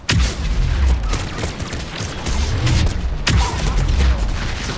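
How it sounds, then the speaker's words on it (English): Mortar fire in the video game Mass Effect 3: dense, continuous booming blasts and rumbling explosions, loud and close, filling the whole stretch with heavier thumps recurring. "a lot of mortar fire everywhere"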